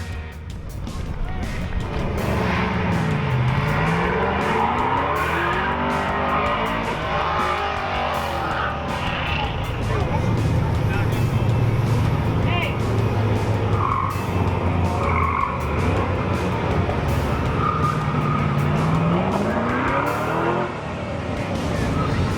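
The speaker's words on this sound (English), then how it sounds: "Dozens of cars participated, with both seasoned track veterans and newbies alike as they whipped around the mid-30-second course, trying to wing through it as fast as possible" Cars run an autocross cone course at a street machine summer nationals event, with engines revving up and down through the corners and tires squealing, loud and continuous beneath a narrating voice.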